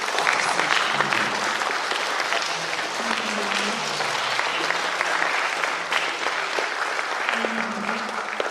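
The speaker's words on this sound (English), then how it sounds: "Let us clap and give him a very hearty appreciation." Conference audience at an Institute of Certified Secretaries convention clapping heartily for a guest, dense sustained applause filling the room throughout, with a faint murmur of voices underneath.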